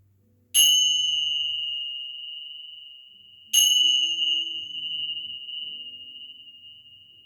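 Two struck meditation bells during a chair yoga relaxation, each ringing out with a bright clear tone that decays slowly, the second strike joined by soft low humming tones.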